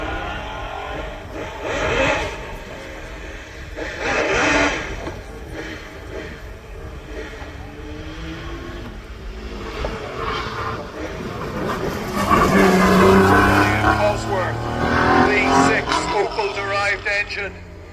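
A small Porsche race car runs at a hill climb, engine surging in bursts that swell and recede, then grows louder near the end as it passes, under a commentator's continuous talk.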